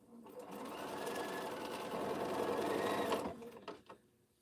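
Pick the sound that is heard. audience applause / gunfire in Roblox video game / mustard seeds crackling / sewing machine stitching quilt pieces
sewing machine stitching quilt pieces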